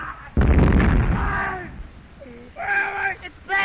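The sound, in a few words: machine gun fire in a war film scene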